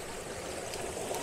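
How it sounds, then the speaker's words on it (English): Outdoor stream running past overhanging trees with a small waterfall cascade, a steady close rushing and trickling of water with no speech. "we've got this sort of stream running up through,"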